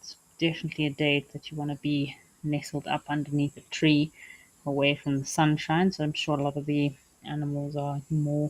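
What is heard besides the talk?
cicadas calling on a hot day in Africa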